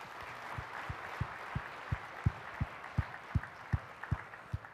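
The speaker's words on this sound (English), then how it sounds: "Big round of applause, Scott." Conference keynote audience clapping, a fairly thin, steady applause with distinct rhythmic claps standing out, heard from a moderate distance in a large hall.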